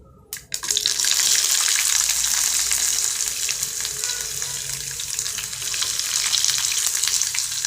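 Onions hit hot oil in a pan for a South Indian Tirunelveli-style curry, bursting into a loud, continuous sizzle and crackle that carries on steadily with no talking.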